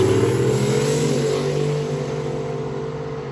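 A drag race car called the Cyclone pulls away down the strip at a race week event, its engine a strong, steady droning roar that slowly fades as it moves off, with no talking.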